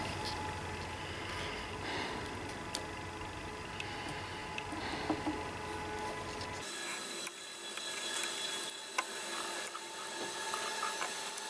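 Wood scraping and rubbing as bark is worked off a wooden Easter egg blank section by section, a steady close rasping texture with small clicks, no talk.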